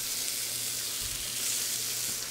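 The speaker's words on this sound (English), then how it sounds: "nice sizzle, I got a nice hot pan here" Salmon and shrimp sizzle steadily in a hot pan for a stir-fry, a constant, bright, crackling hiss close up with no voices.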